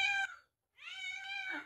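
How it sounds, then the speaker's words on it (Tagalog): A hungry pet cat meowing for food at a farm, two drawn-out cries close by: a short one, a brief silence, then a longer wavering meow. "Natawa ako sa pusa ko mga ka-farms. Parang umiiyak na sa gusto."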